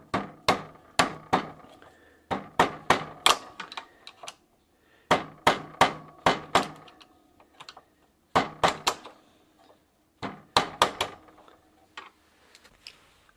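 An old screwdriver is struck against a lock washer on a Sturmey Archer rear drum brake hub, giving sharp metallic taps in quick bursts of four to six, separated by short pauses, close and loud.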